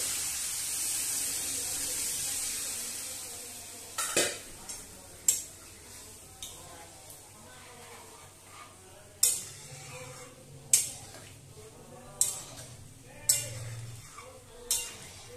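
A spoon mashes and stirs chickpea curry in a pan, giving scattered scraping clinks and soft taps, close but faint, over a low simmer.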